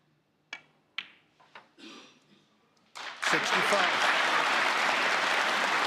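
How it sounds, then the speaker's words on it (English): Snooker audience at the Welsh Open: a few sharp clicks and quiet sounds give way to a sudden burst of loud, sustained applause from the crowd. "A rapturous round of applause for one of the most remarkable breaks made here this week."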